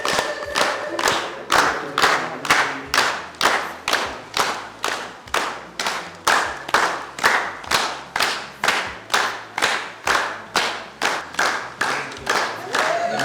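Rhythmic group clapping at a celebration, steady hand claps repeating about twice per second throughout, loud and close, with a crowd murmuring underneath.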